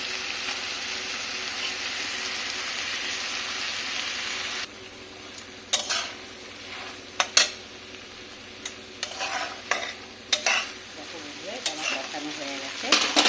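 Goat fat and ghugni fry and get stirred in a pan, first a dense steady sizzle, then quieter frying broken by irregular spoon scrapes and knocks against the pan.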